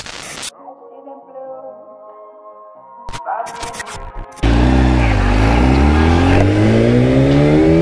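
Motorcycle engine under way on a solo ride, starting quietly with a low hum and brief bursts, then swelling into a loud, steady, rising roar up close from about four seconds on.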